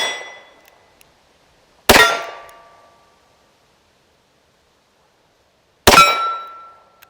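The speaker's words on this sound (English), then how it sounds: "See if these little short bullets can ring some steel." Two sharp metallic clangs, several seconds apart, ring out as bullets from a Harrington and Richardson top-break .32 Short revolver hit a steel target about 15 yards away, each strike leaving a brief ringing decay.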